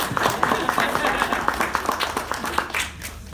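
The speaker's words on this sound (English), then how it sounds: "I'd love to give them a round of applause." A small audience at an art dedication event in a library claps in a brief, sparse round of applause, with distinct individual claps close by and a voice speaking over them.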